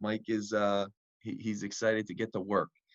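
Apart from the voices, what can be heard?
None of the usual background noises is heard.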